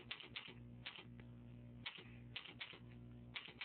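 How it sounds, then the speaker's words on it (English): Bursts of keystrokes on a computer keyboard as web service code is typed in, coming in quick uneven clusters with short pauses between them over a steady low hum. "what I'm going to do is type in the following code"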